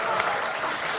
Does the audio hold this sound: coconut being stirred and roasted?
no